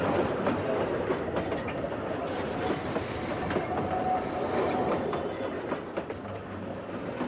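Kuranda train in Cairns hauled by an English Electric locomotive rolls steadily along the rails, a continuous rumble with clickety-clack of wagons close by, loud and unbroken throughout.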